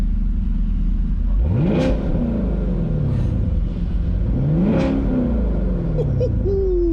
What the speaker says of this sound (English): I'm gonna put the camera in the back of the exhaust and rev it for you guys